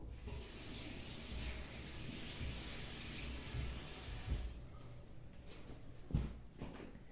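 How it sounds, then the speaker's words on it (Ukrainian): Cold tap water runs steadily into a bottle while kvass is being made, a continuous broad hiss and splash that holds for several seconds before easing, with a few soft knocks near the end. "набрали ми знову водички холодної"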